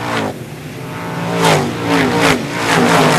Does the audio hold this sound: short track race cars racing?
yes